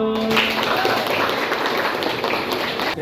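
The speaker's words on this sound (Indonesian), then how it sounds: "Tepuk tangan dulu." A group of people claps steadily after a classroom presentation, a dense continuous patter of applause lasting several seconds with a brief tone at the start.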